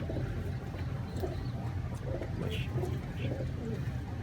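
Pair of pet pigeons, male and female, giving soft low coos repeated at intervals over a quiet background rumble, with faint voices nearby.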